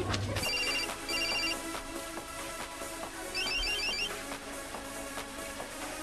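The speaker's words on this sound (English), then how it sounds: "if you were going to buy a new mobile phone, couldn't you have at least made it a quiet one?" Mobile phone ringtone chiming in short repeated electronic bursts, fairly loud over a busy background of clatter and room noise, with no talk.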